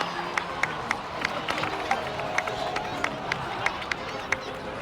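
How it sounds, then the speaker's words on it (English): A steady wash of crowd clapping and cheering in the video game Genshin Impact, with sharp individual claps popping out at a brisk, irregular rhythm. "so please give another round of applause for them."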